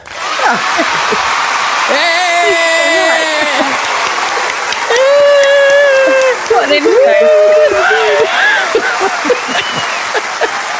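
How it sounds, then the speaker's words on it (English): Recorded applause plays as a podcast intro sound effect, a dense wash of clapping running under several voices talking and laughing loudly over it. "I love the applause."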